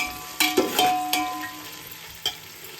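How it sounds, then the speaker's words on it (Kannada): Chopped onions dropped into hot oil with cardamom in a pan for mutton biryani, giving a soft steady sizzle broken by a few sharp clatters of stirring and scraping near the start and once near the end. "ಆನಿಯನ್ ಹಾಕ್ಕೊಂಡು ಬಿಡ್ತೀನಿ. ಇವಾಗ ಇದು ಫುಲ್ಲು ಬ್ರೌನ್ ಆಗೋವರೆಗೂ ಫ್ರೈ ಮಾಡಬೇಕು."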